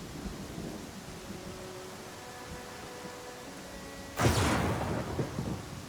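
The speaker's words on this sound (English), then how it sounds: "So now we all suffer the pain of watching the cat slowly struggle through the rain." Rain falls steadily in the fantasy video game Pathfinder: Kingmaker, then a loud, close thunderclap bursts and rumbles on through the downpour.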